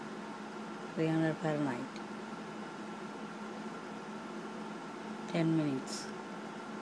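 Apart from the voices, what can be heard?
air fryer running at 300 degrees Fahrenheit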